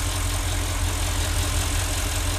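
Audi S6 engine idling steadily after an oil change, a continuous low rumble with a faint rhythmic pulse, close and unchanging throughout with no voices.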